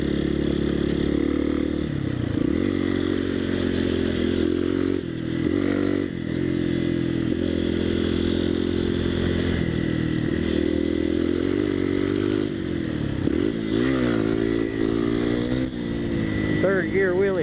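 Honda CRF230L and CRF250L dual-sport motorcycles ride along with a close, steady engine drone that rises and falls in pitch as the throttle changes.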